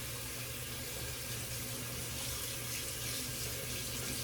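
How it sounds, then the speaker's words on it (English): Cold water runs steadily from a tap into a sink while someone splashes it on a face after a shave, producing a continuous close hiss and rush with no talking. "Splash some cold water on the face."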